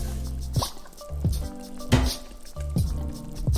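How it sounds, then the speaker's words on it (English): Khmer bitter melon soup with clear broth bubbling in a pot, soft wet plops and drips popping at irregular intervals over a low fan hum. "Now you can hear the soup bubbling"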